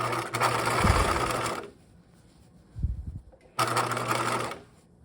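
A sewing machine stitches backpack lining in two loud, close bursts of rapid needle whirring, separated by a quiet gap with a brief handling clunk as the fabric is adjusted.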